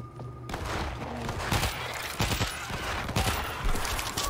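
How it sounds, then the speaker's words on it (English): Gunfire in World War Z rattles on through a dense, noisy battle mix, with scattered loud shots and short bursts against a constant roar of combat. "Those shots came from the highway."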